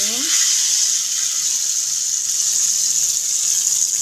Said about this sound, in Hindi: और अब हम इसके अंदर डालेंगे कड़ी।